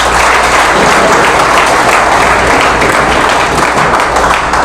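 Loud, sustained applause from a large crowd at a Brahma Kumaris Rajyoga meditation gathering, dense continuous clapping close to the microphone with no speech over it.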